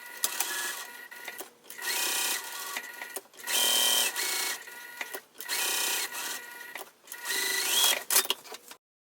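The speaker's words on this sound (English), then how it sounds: "I'm going to sew with that same seam allowance all the way around" A sewing machine stitches a seam around a crossbody bag, running in steady whirring bursts of one to two seconds separated by brief pauses, close and fairly loud, with no voices.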